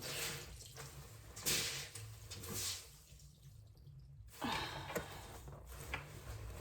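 Water runs and drips as a soapy fake leather purse is wrung out by hand, a soft close splashing trickle that swells and fades in uneven bursts, quiet overall with no talk.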